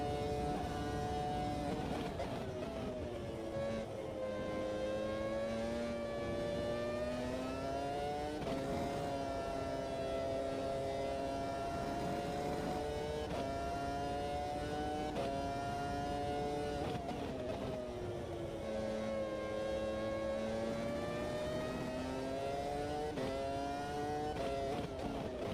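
V10 race cars in Automobilista 2 at Barcelona scream continuously at high revs, the engine note sweeping up and down repeatedly through gear changes and corners, loud and close with no talking.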